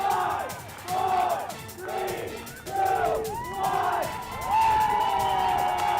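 A crowd cheers and shouts in celebration after a district championship win by Howard, with loud rising waves of whoops and screams filling the whole stretch, swelling again toward the end.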